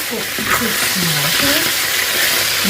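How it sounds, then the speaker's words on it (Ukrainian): Steady sizzling of meat frying in a pan, a constant crackling hiss with a voice talking over it. "Додаємо сюди тільки смажиться м'ясо"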